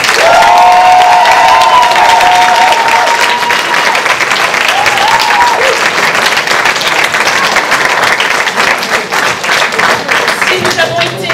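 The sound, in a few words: audience applauding and cheering at improv show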